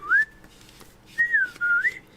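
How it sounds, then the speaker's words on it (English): A person whistles two short rising-and-falling melodic phrases, the first brief and the second longer with a wavering pitch, fairly close and clear against a quiet room with no talking. "I'm trying to whistle then."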